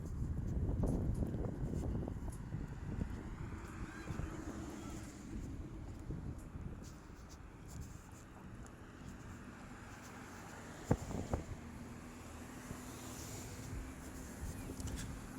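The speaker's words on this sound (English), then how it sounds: "So the wind picks up just a little bit more on us." Wind rushes steadily across the microphone on a sunny outdoor walk near the Grand Rapids Yacht Club toward Reeds Lake, a strong low roar that slowly eases, with faint traffic-like rumble beneath.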